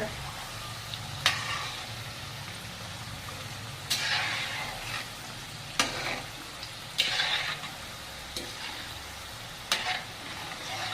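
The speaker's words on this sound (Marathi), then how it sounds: "गॅस थोडासा कमी करायचा आपल्याला, म्हणजे कापण्या छान तळल्या जातात बघा" Jaggery kapanya sweets frying in oil over a low gas flame, a steady soft sizzle broken by occasional louder bubbling bursts as they are stirred.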